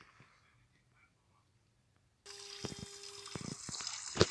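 Shower water starts abruptly after a stretch of near silence and faint movement, then runs as a steady hiss with occasional splashes and clatters, moderately close.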